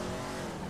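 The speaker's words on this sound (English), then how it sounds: "I think I can hear another performance engine behind me" Performance car engine in GTA V, a steady loud roar that holds without a break for a short moment.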